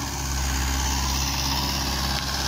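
Mahindra 575 DI XP Plus tractor engine running, a loud, steady diesel drone with a constant low throb that stays even throughout and has no voices over it.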